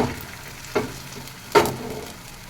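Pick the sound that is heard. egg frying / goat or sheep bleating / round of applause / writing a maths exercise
egg frying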